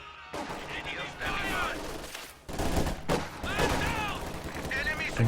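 Bursts of MG42 machine-gun fire in Company of Heroes 2, mixed into busy battle noise with other gunfire while a commentator talks over it.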